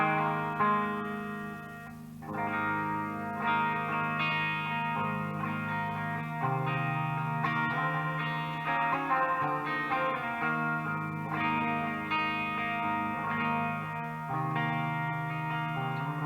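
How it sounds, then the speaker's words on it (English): An electric guitar plays a clean tone with a touch of reverb, no distortion or boost, strummed chords and picked notes ringing steadily and close for the full length. "this is clean tone, no gates, no boost on it from the distortion, just straight up clean tone with a little bit of reverb on it"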